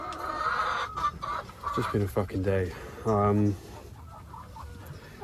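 Hens cluck and squawk in a chicken house, a close run of rhythmic, stuttering clucks with a louder burst near the middle, under and between a person's short spoken remark.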